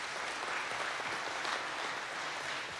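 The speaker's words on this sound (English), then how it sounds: "Give them a round of applause." An audience at a speaking event applauds steadily, a dense wash of clapping that stays level and fairly distant for about three seconds with no voices over it.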